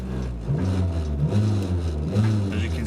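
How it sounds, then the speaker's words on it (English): A car engine fitted with a lightweight flywheel revs up quickly and drops back down several times in a row, a loud, close, rising-and-falling engine note. "it's very eager to go up into the rev range, but it's just as eager to fall back down"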